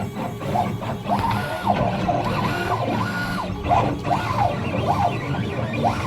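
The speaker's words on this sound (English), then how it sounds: "It's doing it in 2 passes. It's cutting down to 5 mil." A CNC drag knife with a fresh blade cuts foam board in two passes, giving a steady mechanical whir with rising and falling motor tones as the gantry moves back and forth, continuous and fairly loud.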